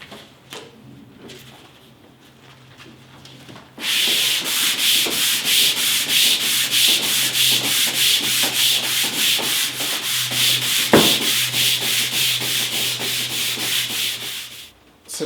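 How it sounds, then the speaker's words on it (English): Raw timber on Ercol furniture being hand sanded with 180-grit sandpaper, a loud, close, rhythmic scratching of quick back-and-forth strokes that runs steadily for about eleven seconds after a quieter start. "I'm going to cut back that raised grain and sand it with 180 sandpaper"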